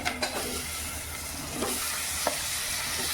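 Goat offal goes into a pan of masala for mutton kalji and sizzles steadily, with a few soft stirring scrapes over a continuous hiss of frying and no talking.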